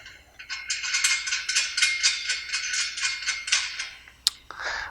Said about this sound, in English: Take a hex nut,